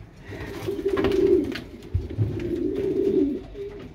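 Breeding pigeons in a loft, twenty pairs kept for hatching young, coo in a low, steady, throaty drone with two brief swells, close and continuous, with no talk over it.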